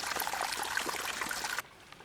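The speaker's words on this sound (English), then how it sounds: "There's some more water coming out of the ground over there." Water trickling out of the ground on a mountain hillside near Clouds Rest, a close, soft splashing flow that cuts off abruptly near the end and leaves quiet.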